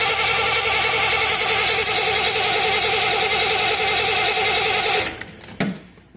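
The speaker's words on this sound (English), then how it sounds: "you can turn the engine over like this" A Triumph TR6 engine cranked over with its coil disconnected gives a loud, rapid, even chugging from the starter for about five seconds, then stops abruptly, followed by a couple of faint clunks.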